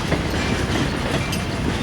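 Union Pacific train 4872 rolls westbound into Roseville Yard in California, a steady close rumble of wheels and cars with faint clickety-clack, no voices.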